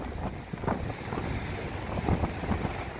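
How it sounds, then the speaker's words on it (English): Tropical storm waves crash under beach houses on Dauphin Island, Alabama, making a continuous churning roar of surf with gusting wind buffeting the microphone. The sound is loud and close, and no one speaks. "Water already crashing underneath the houses."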